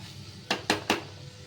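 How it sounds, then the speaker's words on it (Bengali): A spoon clinks three times in quick succession against a pot while stirring chickpea and pea ghugni over low to medium heat, crisp metallic taps over faint background hiss. "সব একটু নাড়িয়ে নিই।"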